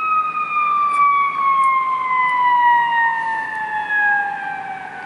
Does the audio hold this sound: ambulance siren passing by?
yes